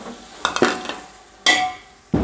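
Chopped tomatoes fry with ginger garlic paste in a pan for mushroom biryani, giving short bursts of sizzling and scraping stirs, three distinct strokes with quieter frying hiss between them.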